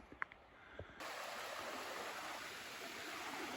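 After a few faint knocks, a steady rush of flowing water suddenly fills the scene and continues evenly, like a nearby creek; Minister Creek.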